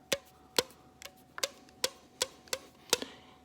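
A short length of stretched rubber band plucked repeatedly, giving sharp, quiet, high twangs about every half second, close with no talking.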